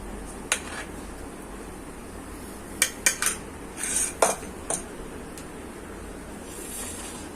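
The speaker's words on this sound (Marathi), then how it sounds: "आता एका वाटीमध्ये आपण काढून घेऊया" Sweet potato halwa being spooned from the pan into a bowl: a few light metal clinks and scrapes of a spoon against cookware, close but quiet over faint room noise, with no speech.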